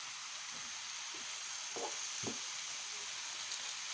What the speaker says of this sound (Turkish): Güzelce kavuruyoruz